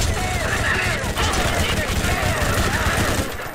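Anarchy gun firing in Borderlands, a rapid continuous stream of shots with whistling projectile trails over a dense game backdrop, heard alone and fairly loud.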